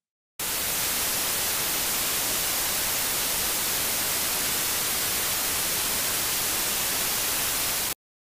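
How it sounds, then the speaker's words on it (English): Pure white noise starts abruptly, holds a steady, even hiss across the whole range for about seven seconds, then cuts off sharply. "A more technically precise definition for white noise is white noise has equal energy per frequency interval"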